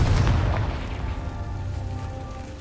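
A Confringo blasting spell explodes in Hogwarts Legacy with a deep, close boom. Its rumble fades away over a couple of seconds.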